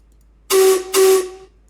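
Miniature steam locomotive on the Arlesdale line gives two loud, steady whistle blasts, each about a quarter to a third of a second long, with a short gap between them and a breathy hiss at the start of each.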